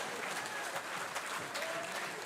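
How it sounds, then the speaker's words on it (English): Crowd applause at a political party general council in Grenada, dense and continuous clapping filling the hall, heard on its own without talk. "Give Brother Cox a round of applause."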